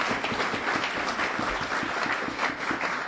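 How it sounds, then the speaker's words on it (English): A small room of people at an education advocates' news conference gives a round of applause, with steady, fairly quiet clapping that continues evenly for a few seconds. "I want to give myself a round of applause for actually catching everybody in the"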